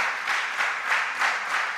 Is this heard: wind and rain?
no